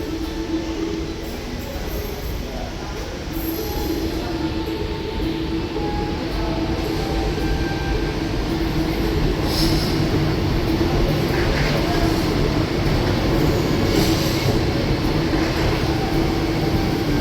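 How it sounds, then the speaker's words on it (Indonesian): Train noise inside Yogyakarta railway station in Indonesia, a steady loud rumble of rolling stock and station hum that holds throughout with faint distant clatter, and no clear horn. "yuk kita masuk ke stasiun Yogyakarta"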